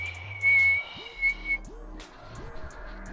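Air drawn through a bendy plastic straw makes a thin, steady high whistle that wavers and drops out, along with some low rising squeaks, close and fairly faint.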